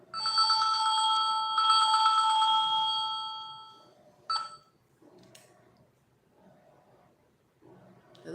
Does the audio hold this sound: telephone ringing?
yes